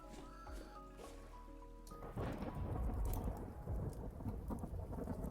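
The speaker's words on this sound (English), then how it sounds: "Boy, this lightning storm is close." In the Vintage Story game, a close lightning strike cracks into rolling thunder midway, followed by steady heavy rain pattering on surfaces, loud and near, after a stretch of soft background music.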